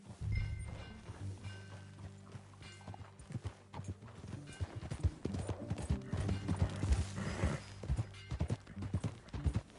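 Horse hooves clip-clop steadily in Red Dead Redemption 2 as a horse walks along, close and rhythmic, with low background game sounds and a brief whinny-like note.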